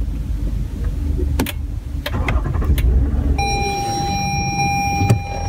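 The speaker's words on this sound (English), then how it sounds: "now let me start my car" A Toyota Avalon engine starts with a few sharp clicks over a low rumble, settling into a steady idle while a sustained electronic chime tone sounds alongside, close and fairly loud.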